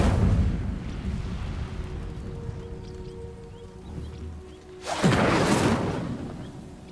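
The Incendio fire spell in Hogwarts Legacy: a sustained roaring rumble of flame, then a loud whooshing burst of fire that swells suddenly near the end and slowly fades.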